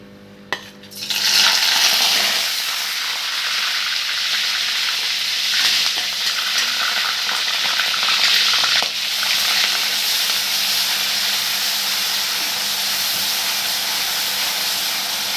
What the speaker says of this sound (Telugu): ఇప్పుడు ఇది ఆయిల్ వేడెక్కాక దీన్ని దాంట్లో వేసేద్దాం